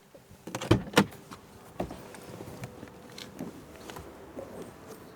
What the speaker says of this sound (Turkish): Kapıyı kilitledim. Camlar otomatik olarak kalkıyor.